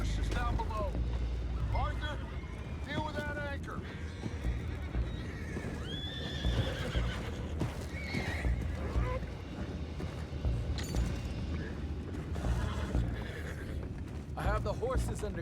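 Horses neigh and whinny repeatedly in the video game Red Dead Redemption 2 over a busy, dense background of rumbling and clattering, with a few hoof clops mixed in.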